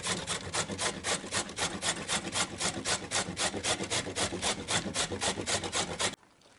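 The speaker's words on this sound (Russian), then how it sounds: "Натираем морковку" A carrot is rubbed rapidly over a grater, producing a close, even run of rasping strokes at about three per second that stops abruptly near the end.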